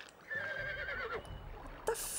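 A horse whinnies in the Barbie horse adventure video game, a rising and falling call heard alone over a faint game backdrop.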